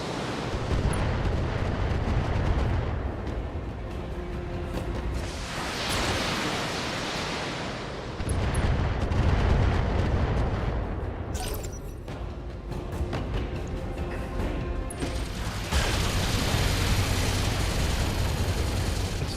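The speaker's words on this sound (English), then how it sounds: "Firing on multiple enemies." Mech weapons in the BattleTech game with the Advanced Universe mod fire on multiple enemies, loud sustained roaring blasts and rumbling bursts with sharp crackling layers throughout.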